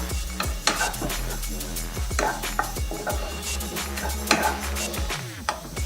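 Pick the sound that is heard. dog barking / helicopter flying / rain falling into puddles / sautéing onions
sautéing onions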